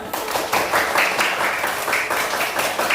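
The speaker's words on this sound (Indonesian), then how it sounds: "kasih tepuk tangan kita semua ya" A group claps together in steady applause, a dense patter of hands lasting throughout, loud and close.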